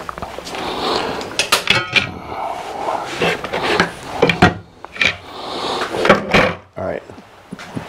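Riving knife being removed from a SawStop table saw: a series of sharp metallic clicks, knocks and rubbing handling sounds at close range, arriving in irregular bursts.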